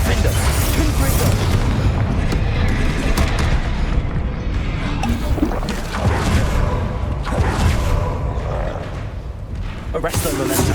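Spell blasts from Hogwarts Legacy's Confringo explosive curse mix with dense, loud booming combat noise that churns continuously throughout, with repeated heavy bursts and roaring effects and no pause.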